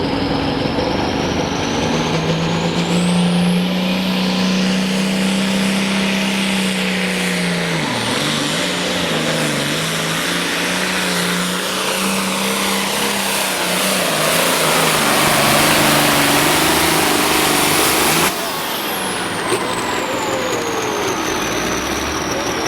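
A John Deere tractor roars down the track at a tractor pull, a loud, sustained engine drone whose pitch climbs and wavers as it strains under load, with a sharp cutoff near the end.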